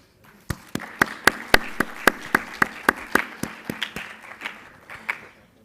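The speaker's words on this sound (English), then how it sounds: "Please give a big round of applause to yourself for doing a tremendous job" Small audience at an inter-college environmental public speaking competition claps along in a slow, evenly spaced rhythm, about a dozen distinct claps that soften toward the end.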